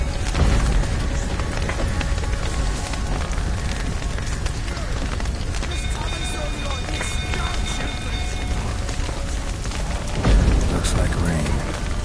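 Steady rain falls throughout a rainy scene in The Witcher 3, a broad continuous wash with a few louder moments near the start and around ten seconds, while a voice speaks over it.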